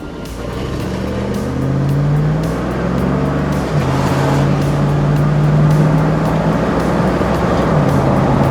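A car with a 4L60E automatic transmission, just repaired after being stuck in third gear, drives on a test drive. The engine hums loudly from inside the vehicle and the tone shifts in pitch as it accelerates, over steady road noise.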